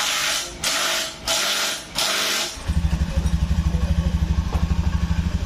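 A 2019 Honda Beat scooter engine that has just had its valve stem seals replaced, after a history of smoky exhaust, oil loss and a noisy engine, cranks in a few bursts, then catches and settles into a steady, rapid, close-up idle.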